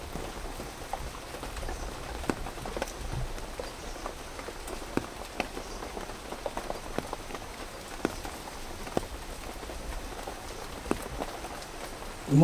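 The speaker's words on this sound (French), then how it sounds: "C'est pas beau en ce moment. Il pleut là." Rain falls steadily, with scattered drops tapping on a surface and no talking.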